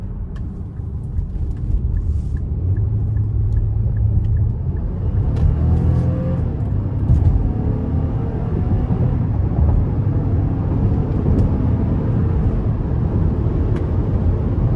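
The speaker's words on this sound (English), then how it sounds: "Now I'm gonna put it into sport mode and give it something getting on the interstate here." A 2024 Nissan Pathfinder SL in sport mode accelerates onto an interstate. Steady, loud low engine drone and road rumble build throughout, with no talking.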